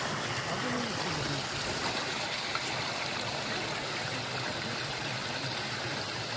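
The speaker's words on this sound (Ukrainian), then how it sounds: "Ой, шум води зачаровує." A rushing mountain river beside riverside gazebos at a trout fishing spot near Mykulychyn gives a steady, dense roar of flowing water that stays close and constant throughout, with no talking.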